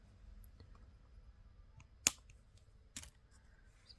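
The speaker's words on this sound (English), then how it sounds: "we'll cut that right there" Scissors snip through ribbon while a bookmark is made: two sharp, close cuts a second apart in an otherwise quiet room with faint handling noise.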